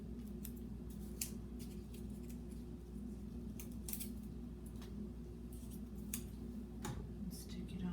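Scissors snip along the edges of a handmade sled kite, giving repeated short crisp cuts over a steady low background hum, fairly faint and close.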